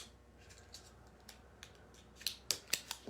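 Scissors snip at a glass transfer in a quiet room, a few faint light clicks that build to several crisper cuts near the end.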